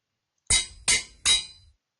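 Three sharp metallic clangs from an anvil in Minecraft ring out in even succession, each bright strike decaying quickly, with no voices.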